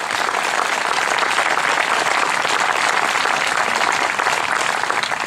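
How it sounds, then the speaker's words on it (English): Dense, steady applause from a large audience at a Relay for Life charity event, loud and continuous throughout with no talking over it. "So give yourselves a big round of applause."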